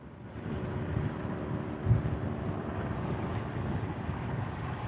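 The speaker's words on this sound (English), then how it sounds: "There's always a plane in my video." An airplane drones overhead at a fishing spot outdoors, its low, steady rumble continuous and moderately loud with wind noise mixed in.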